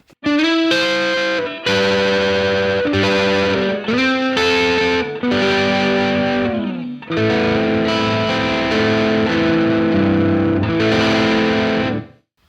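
A heavily distorted electric guitar plays sustained chords and bending notes, loud and saturated, with brief pauses between phrases and no talking.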